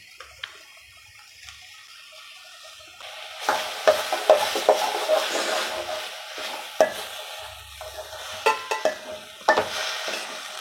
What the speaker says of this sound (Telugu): ఇప్పుడు దీంట్లో ఫ్రెష్గా దంచి పెట్టుకున్న అల్లం వెల్లుల్లి పేస్ట్ వేసుకోవాలి.